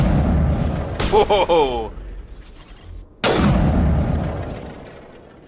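Sniper rifle fire in the Mass Effect video game: a loud sharp crack near the start, a second heavy blast a few seconds later with a long decaying tail, and a brief startled voice between them.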